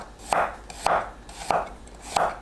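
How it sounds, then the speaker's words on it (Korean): A knife cuts garlic into thin slices on a board: four crisp, evenly spaced chops, close and fairly loud, with nothing else heard between them. "마늘은 편으로 잘라줍니다."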